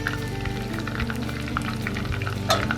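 Chicken wings for Buffalo wings frying in hot oil, a steady dense sizzle with crackling bursts throughout and a louder pop near the end, no talking.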